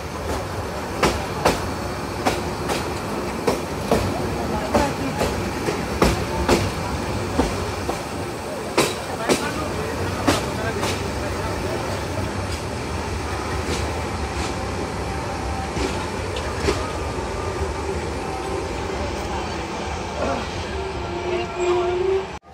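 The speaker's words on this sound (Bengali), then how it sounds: "আমাদের ট্রেনটি এখন গচিহাটা রেলওয়ে স্টেশন প্রবেশ করলো" Riding aboard the Dhaka-bound intercity Kishoreganj Express as it enters Gachihata station in Kishoreganj district: a steady rumble with sharp, regular clickety-clack wheel beats and a faint squeal near the end.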